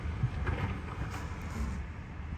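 Hurricane Ian's wind roars steadily and loudly around a house, buffeting the microphone in a constant low rumble with no voices.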